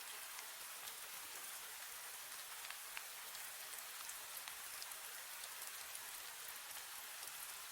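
Gentle rain falls steadily and softly, a continuous even hiss of drops with faint scattered pattering on surfaces and no voices.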